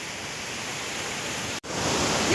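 A mountain stream flows in a steady, full hiss of rushing water, close and continuous, broken only by a brief dropout before resuming just as strongly.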